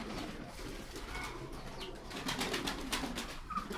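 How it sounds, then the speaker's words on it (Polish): Ornamental pigeons from a flock of about 35 birds coo softly and continuously in a coop, with faint scattered calls and low rustling, no talk. "Jest bardzo dużo gołąbków tutaj u mnie."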